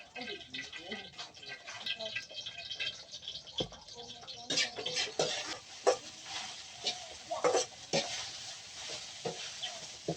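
Leftover rice being stir-fried in a pan for breakfast fried rice, with soft scraping stirs, light sizzling and clinks of a utensil against the pan at close range, somewhat faint.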